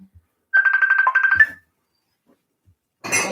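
A phone rings with an incoming app call: a bright electronic ringtone pattern of rapid repeated tones plays for about a second, stops, then a short burst of noisy sound follows after a pause, loud and close.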